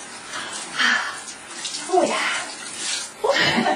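Cold water from a morning shower runs and splashes steadily, loud and close, with shifting spray as a body moves under it and a brief spoken exclamation.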